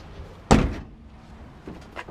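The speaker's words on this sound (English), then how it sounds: "Shut the door." A car door swings shut with a single solid thunk close by, followed by a couple of faint handling knocks and rattles.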